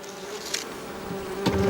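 Bees buzz steadily around leftover food supplies at a sandy forest campsite on a Congo expedition, a continuous insect drone with a louder pass or two close by.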